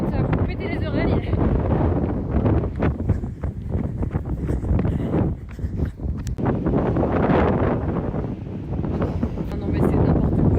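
Strong wind buffets the microphone throughout a bike ride, a loud, continuous low roar with gusting surges that nearly drowns out a rider talking over it.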